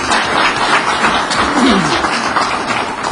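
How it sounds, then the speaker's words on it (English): Applause breaks out in a tribal council meeting, a steady, dense round of clapping that fills the hall for a few seconds, with faint voices mixed underneath. "Let's give her a round of applause."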